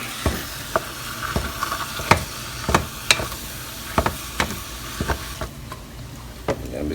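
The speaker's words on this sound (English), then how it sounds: "And while I'm stirring that, I'm gonna be stirring my meat." Diced tomato and ground turkey are stirred in a pot for stew over a steady sizzling hiss, with repeated sharp taps of the spoon against the pot at an irregular rhythm. No speech.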